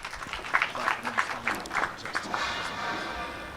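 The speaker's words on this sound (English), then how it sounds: "Clap for yourself, please" An audience at a Kenya Pipeline Company public sector reform ceremony claps, starting with a few distinct rhythmic claps that swell into a sustained, moderately distant round of applause.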